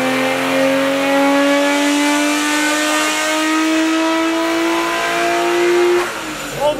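A Nissan R32 GT-R with a very loud exhaust screams on a dyno, its engine held at a high, rising rev for several seconds before dropping off suddenly, raw and close.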